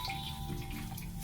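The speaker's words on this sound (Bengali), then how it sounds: "জল চেপে চেপে বার করতে হবে।" Water squeezed by hand from fresh chhena (cottage cheese) trickles and drips in a brief, faint, close-up stream with no talking.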